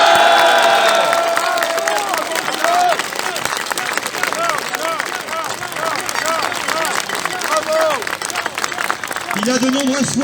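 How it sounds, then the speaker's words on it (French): Crowd at an outdoor anti-lockdown freedom rally applauding and cheering for Charles Gave, steady clapping and shouts over a murmuring throng, with voices talking throughout. "Vous pouvez applaudir Charles Gave."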